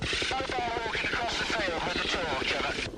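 A police helicopter's rotor thumps in a rapid, steady chop beneath a voice speaking over it, the engine noise continuous and fairly close.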